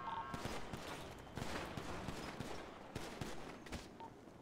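Rapid bursts of gunfire crack through a GTA roleplay shootout, repeated sharp shots scattered across the moment at close to mid distance, fairly loud with no talk over them.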